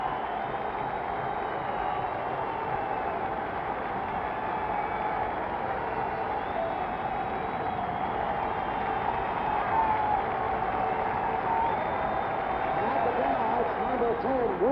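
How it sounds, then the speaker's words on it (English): A basketball arena crowd at a 1970 Knicks versus Lakers Game 7 applauds and cheers for Willis Reed, a dense, sustained roar that stays steady throughout while a broadcaster talks over it. "That's the type of applause that has been reserved for boxers like Sugar Ray Robinson in the old garden"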